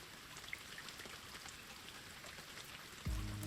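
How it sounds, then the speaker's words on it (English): Steady rain pattering on a roof in the visual novel If My Heart Had Wings, a soft continuous patter running quietly throughout, with a brief low thump near the very end. "the sound of the rain hitting the roof dulled my thoughts"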